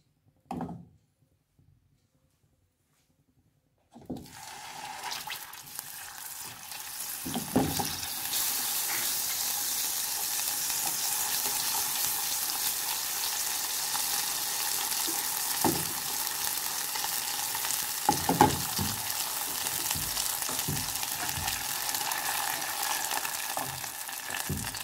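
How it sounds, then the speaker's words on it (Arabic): Butter dropped into fully melted sugar in a pan, starting with a few faint clinks before a strong, steady sizzle and bubbling that persists throughout, with occasional scraping stirs and louder pops. "من بعد ما دابت سنيده كامله دابا غنزيد عليها معلقه ديال الزبده"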